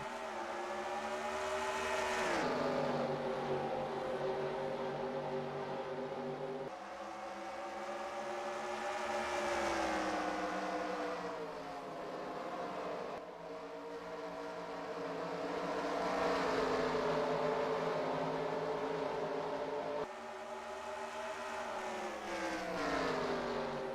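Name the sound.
dirt race cars racing in a video game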